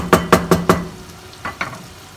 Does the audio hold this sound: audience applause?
no